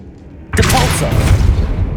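A Depulso spell fires in Hogwarts Legacy, a sudden loud whooshing blast with a rumbling boom that breaks in after a quiet lead-in and then sustains with crackling energy.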